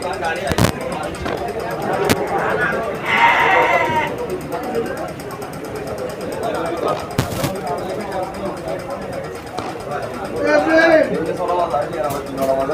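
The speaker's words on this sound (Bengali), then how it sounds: "আর ভেড়াও আছে এখানে যে বিভিন্ন সাইজের ভেড়া আছে" Sheep of various sizes bleat at a crowded goat and sheep livestock market, a couple of short calls rising over steady crowd noise, with people talking nearby throughout.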